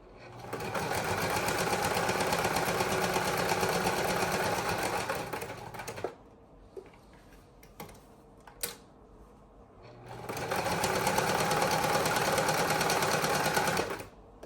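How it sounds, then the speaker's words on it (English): A sewing machine stitching a zipper runs in two sustained bursts of rapid, whirring stitching, with a quiet stretch of small clicks and handling noises between them. "I have had needles break on me when I'm sewing the zipper"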